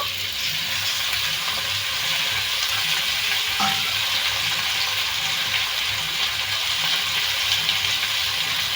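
Lote fish (Bombay duck) frying in a pan with fried potatoes and onions in a Bengali home kitchen, giving a loud, continuous, close-up sizzle with a brief scrape partway through.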